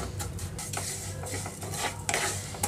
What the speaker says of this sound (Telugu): 1-2 నిమిషాల పాటు లో ఫ్లేమ్లో ఉంచి వేయిస్తున్నాను.